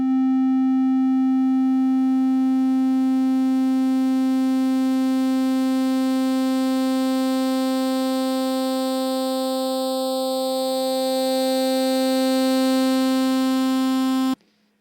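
Sustained synthesizer tone from the Nettle scanned synthesis plugin, a steady buzzy drone rich in even harmonics, its upper overtones slowly shifting in brightness before it cuts off.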